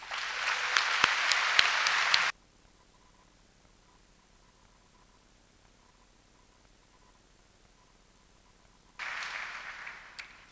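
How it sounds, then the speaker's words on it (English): Graduation audience applause: a burst of clapping for about two seconds, then near silence, then another burst of clapping near the end, heard from a distance in a large hall. "Please give all of our students a round of applause."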